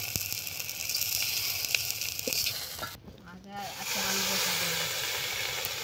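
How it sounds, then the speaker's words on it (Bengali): Pitha, a traditional Bengali rice cake, sizzles steadily in a hot pan with a broad hissing texture, dipping briefly in the middle before surging back louder as water is added, while a voice talks faintly underneath. "আর একটু হলেই তাহলে হয়ে যাবে আমাদের ভাজা পিঠা"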